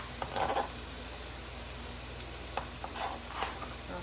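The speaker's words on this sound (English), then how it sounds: "I chopped up the onions into very small pieces, okay? I'm gonna throw that in to the pot" Chopped onions, cut into very small pieces, are tossed into a hot soup pot, giving a couple of brief sizzling, stirring bursts separated by quieter stretches over a steady low kitchen background.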